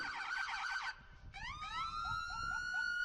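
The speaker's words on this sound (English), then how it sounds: "I think we need closed captioning for a minute or two here with the sirens coming in." Police sirens from a Claxton Police-led procession wail and yelp, rising and falling in pitch, fairly faint and distant with no voices.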